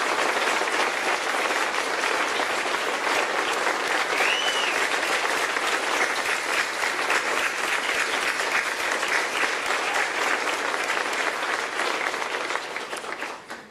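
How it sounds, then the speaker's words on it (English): Long, rousing standing ovation for a state governor at a company event in Milwaukee, dense even applause holding steady for over ten seconds before tapering off at the end. "giving a rousing round of applause to Governor Scott Walker for the leadership that he provides every day?"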